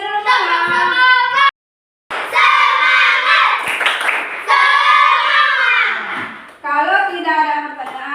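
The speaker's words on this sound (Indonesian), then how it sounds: "tepuk semangatnya dulu teman" A school class does a rhythmic spirit clap together, with loud chanting and shouting voices and clapping in bursts. A brief pause splits the chant into several energetic phrases.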